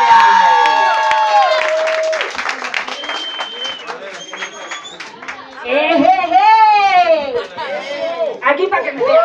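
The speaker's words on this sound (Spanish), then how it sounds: "Recibamos con un fuerte aplauso hoy es Mini García." An audience at a comedy club's first-anniversary event claps and cheers loudly, with whoops and shouted voices rising over the applause and talk carrying on throughout.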